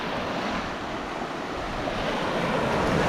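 Sea waves washing onto a rocky beach at Kourion, Cyprus, a loud continuous rushing surf with wind buffeting the microphone, close and steady without speech.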